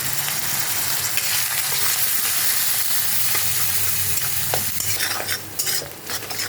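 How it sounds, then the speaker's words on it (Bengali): Loud, continuous sizzling from a pan as spices with salt, turmeric and cumin are stirred and fried, with scraping utensil sounds growing busier near the end. "আমি এখন ভালো করে মশলাটা কষিয়ে নেব"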